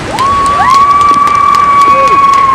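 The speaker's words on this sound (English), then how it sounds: "give your owner drivers a big round of applause" A crowd at a fire truck display at Truckfest Scotland 2019 cheers and claps loudly and continuously, with shouts and whistles rising over the steady roar of applause.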